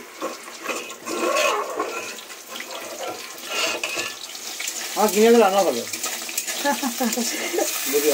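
Chillies sizzling in a hot pan of oil during home festival cooking, a steady hissing crackle with a few louder spurts, close by, with some faint talking in the background.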